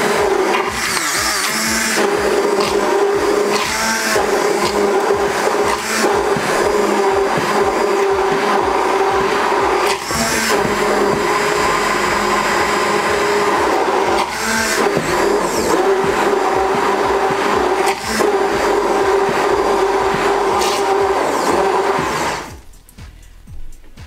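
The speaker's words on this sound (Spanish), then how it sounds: "Vamos a utilizar esta maquinita y vamos a empezar a mezclar todo." A small electric mixer beats crepe batter with a steady, loud motor whine that runs unbroken for over twenty seconds, then cuts off abruptly.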